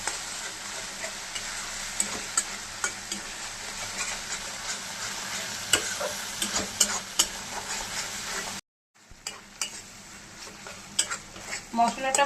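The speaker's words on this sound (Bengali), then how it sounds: "ভালো করে নাড়িয়ে চেড়ে একটু সামান্য কষিয়ে নেব।" Spice paste with sugar and salt fries gently in a pan, a soft steady sizzle broken by frequent light scrapes and clicks of a spatula stirring, with one brief silent gap.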